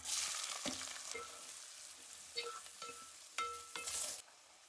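Onions and green chillies fry in a pan for mutton keema curry. They sizzle loudly at first and then settle to a steady crackle, with intermittent stirring clinks and scrapes. No voice.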